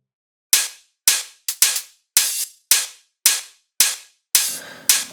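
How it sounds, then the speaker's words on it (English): A sharp open hi-hat sample from an electronic dance track, treated with automated auto pan, plays in a steady series of about nine crisp hits, each with a bright, quickly decaying sizzle. The last hits ring longer and fuller, and no voices are heard. "I also automated this auto pan effect to give the final open hat some spice."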